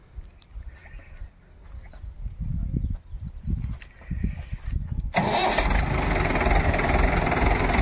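A Mahindra 585 DI tractor engine cranks in a series of uneven bursts, then catches and settles into a loud, steady running roar close by, with a few voices heard early on.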